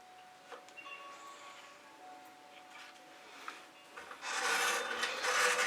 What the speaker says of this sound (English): I am going to scrape off my card and push it over the edge.